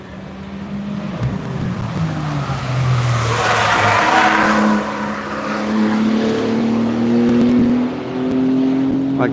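A race car on the Tire Rack One Lap of America course approaches and passes close by, engine note rising and falling with a long Doppler sweep, tires faintly squealing, while a voice talks quietly in the background.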